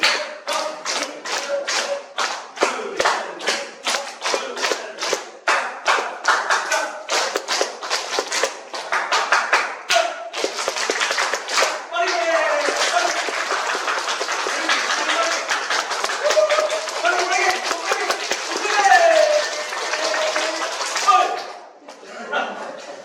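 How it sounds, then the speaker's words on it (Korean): A hall audience at a health lecture for cancer patients claps along with the presenter, first as a run of distinct rhythmic claps, then as sustained, dense clapping with chatter and laughter mixed in. "박수 좀 쳐볼까요? 제가 먼저 치고 여러분이 따라서 치는 거예요"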